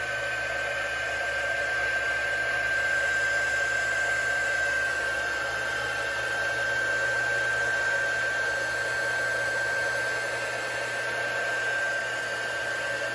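A heat tool blows steadily on an alcohol ink tumbler, a constant whirring fan hiss with a thin high tone, unchanging and close for the whole stretch, with no talking.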